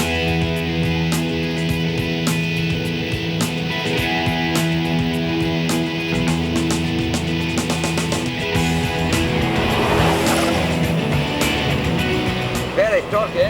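A torquey engine in a restored classic car is driven hard around a race track, a loud continuous drone with steady harmonics and rising revs while people talk over it.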